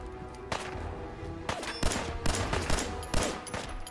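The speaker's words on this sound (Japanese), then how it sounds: "爆発ピストル。" Explosive pistol fire from a Fallout 4 battle against raiders, a rapid string of loud sharp blasts at irregular intervals with rumbling tails, close and dominant with no talk.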